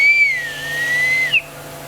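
A toy whistle blown without its cork ball gives one steady, shrill, clear tone for over a second. It glides slightly in pitch and ends with a brief upward chirp, loud and alone.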